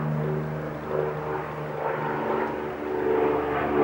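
A propeller airplane drones steadily overhead for about four seconds, a continuous engine hum that swells slightly and stays moderately loud with no talking.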